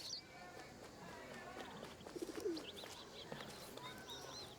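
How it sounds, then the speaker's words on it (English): A feral pigeon (rock dove) gives a brief, soft coo partway through, with thin bird chirps and light outdoor background noise around it. "It is a rock dove, right? Columbia livia domestica. Feral pigeon."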